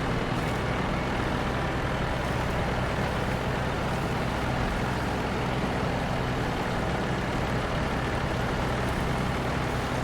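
A heavy truck engine runs steadily in SnowRunner, a constant low rumble and drone with no talk over it, driving in all-wheel drive through the Black River area of Michigan.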